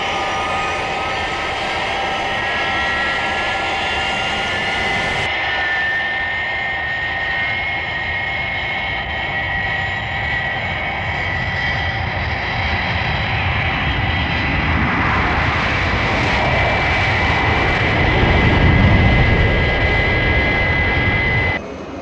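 Jet engines of a fixed-wing aircraft in flight, shown as a Thunderbirds craft breaking through the sound barrier, roar steadily and loudly throughout, with a whining high tone and the rumble swelling near the end.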